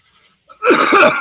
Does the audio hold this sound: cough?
yes